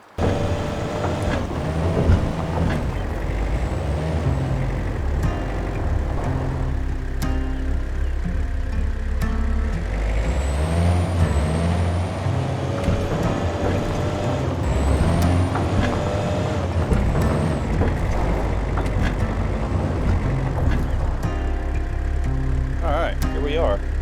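Truck engine rumbling steadily while driving in the hunting video game Way of the Hunter, a continuous low drone with a brief hissing air-brake-like burst, under intermittent talk.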